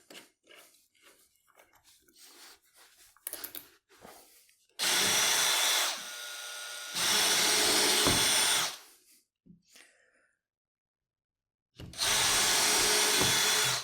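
A power drill drives screws into wood while a workbench is built, with loud sustained bursts of whirring separated by a long pause and quieter handling knocks and rustles at the start.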